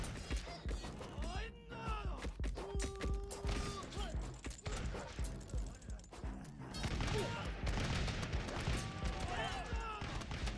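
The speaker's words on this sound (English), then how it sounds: "Oh, they're harpoon guns." Harpoon guns fire in a video game battle, a run of sharp mechanical shots and clanks scattered through busy combat noise while players talk over it.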